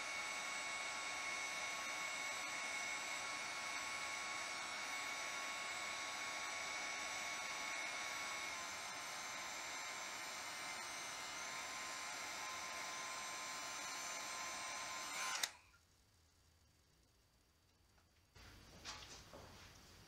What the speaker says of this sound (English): I used a heat gun underneath the tray.